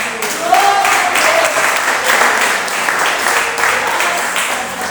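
A church congregation applauds after a prayer, with sustained, even clapping from many hands filling the hall at close range for about five seconds and fading slightly at the end.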